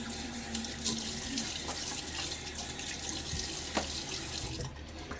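Steady rush of water pouring from a tap, close and continuous, with faint splashes and small knocks on top.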